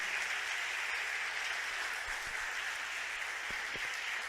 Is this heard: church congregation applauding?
yes